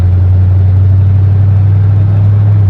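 Loud, steady mid-pitched car engine drone heard close up with a constant low hum, the car pulling away in first gear after an oil refill.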